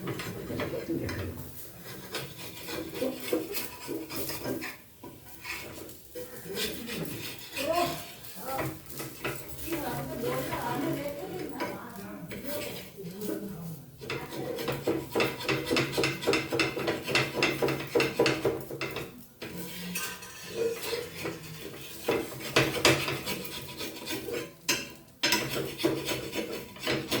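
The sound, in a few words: metal spatula scraping a dosa off the pan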